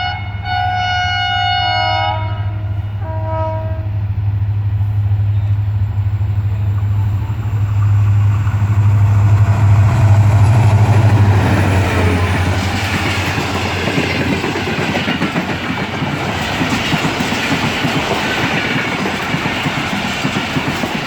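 A train horn blares, then the Mehran Express passenger train thunders past at speed close by at Jumma Goth station, its loud rumbling and clattering wheels filling the air for a long stretch.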